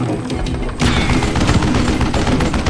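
Gunfire in Call of Juarez: Gunslinger, a Western shooter, as a cowboy fights zombies: loud, rapid volleys of overlapping gunshots and thumping blasts, dense and continuous, with no speech.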